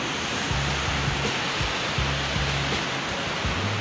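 A rushing Mastuj river below a mountain roadside, a dense, steady broadband roar of flowing water that fills the whole clip without pause, with faint low tones underneath.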